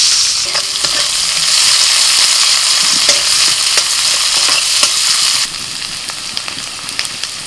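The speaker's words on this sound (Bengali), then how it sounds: "এবার ওই তেলের মধ্যে দিয়ে দিচ্ছি পেঁয়াজ কুচি" Chopped onion goes into the oil left over from frying small fish, producing a loud, crackling sizzle with spatula stirring clicks. The sizzle drops to a quieter level partway through, and there is no speech.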